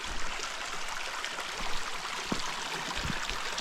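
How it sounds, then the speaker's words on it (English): Water flows steadily through a small mountain creek in Kananaskis, a continuous close, fairly loud rushing and babbling with no voices. "A little bit of water still in some of the creeks. What a nice sound though."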